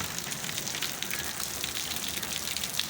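Steady rain falls without letup during a stormy Thursday downpour, a dense, even hiss of drops on surfaces holding at the same level throughout, with no voices.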